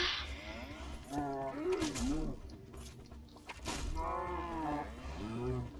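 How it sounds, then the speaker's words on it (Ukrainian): Cows in Minecraft Dungeons let out several drawn-out, wavering moos, loud and close, in two main bursts with a short gap between them, set against a steady game backdrop. "Мукають і мукають."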